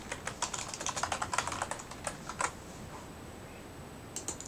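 Fingers typing on a computer keyboard close by, quick bursts of crisp key clicks with short pauses, fading to a quieter stretch before a final few taps.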